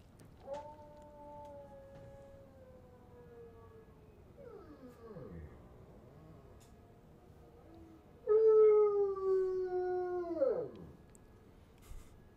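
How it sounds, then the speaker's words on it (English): A bloodhound howls in two long whiny drawn-out cries, the second louder and more strained, each sliding downward at the end, heard near and clear with a faint background hum. "And then I have a third video of a bloodhound howling, like a legit howl."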